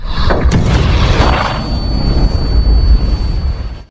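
A gas explosion in The Equalizer movie bursts loudly with a sharp initial blast, then rolls into a long, deep rumbling roar that fades out near the end.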